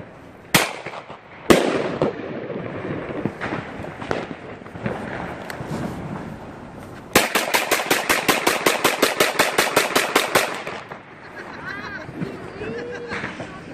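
New Year's Eve fireworks and firecrackers, including ball bombs, Black Widow, spinning strobe and bird-scarer bangers. Two sharp bangs open, scattered pops follow, then a fast, loud string of crackling reports before tapering off, with voices talking in between.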